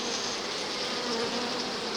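Honeybees drone in a dense, steady buzz at an open beehive during an inspection, close and continuous, with no voices.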